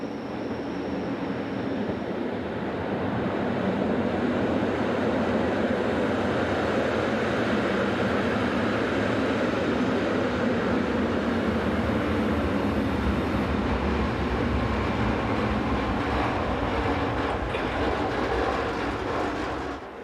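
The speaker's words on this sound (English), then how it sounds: "Here number 609 is seen again with the terminating train from Davos." Swiss train number 609 from Davos rolls into Filisur as a terminating service, a steady, fairly loud rumble of wheels and carriages sustained throughout with faint clicking of rail joints and no voices.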